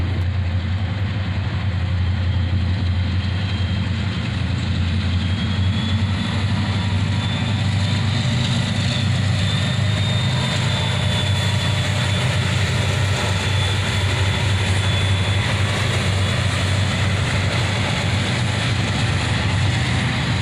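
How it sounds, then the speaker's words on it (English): An EMD SD70MAC diesel locomotive leading a freight train at a street-side crossing gives a continuous, loud, steady low engine roar that holds unbroken for the whole stretch, with no voices. "Listen to that old EMD roar as an old Sd72 leads this train, followed by an ES40DC."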